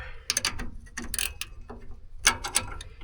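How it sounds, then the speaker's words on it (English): A ratcheting gear wrench clicks in quick bursts of sharp metallic ticks, three short runs up close, during brake master cylinder work on an M35A2 Deuce and a Half military truck. "Didn't I have a ratchet wrench on the..."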